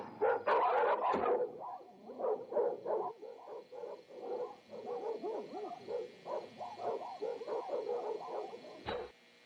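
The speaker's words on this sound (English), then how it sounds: "Why did the dogs have to start barking as soon as the lights went out?" Dogs bark in a string of repeated yaps and hoots at night, moderately distant and fairly faint, with an irregular rhythm and a sharp louder burst near the end.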